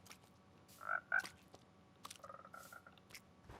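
Frogs in the Minecraft video game give a few short, faint croaks in brief bursts against quiet background noise, spaced irregularly.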